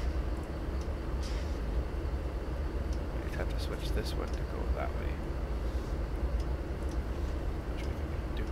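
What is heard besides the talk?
train moving in a train simulator video game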